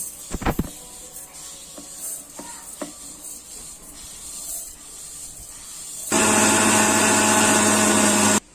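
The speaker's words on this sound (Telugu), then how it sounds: "ఆవాలు ఇలా మిక్సీ చేసుకోవాలి" A mixer grinder grinding mustard seeds roars on loudly after a stretch of soft knocks and handling clatter, its steady whirring motor drone continuing to the end before cutting off.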